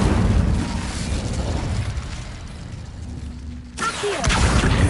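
Incendio fire spell effect in a video game: a loud, roaring whoosh of flame that fades, cuts off, then bursts back with a deep thump and renewed rumble, with no talk over it.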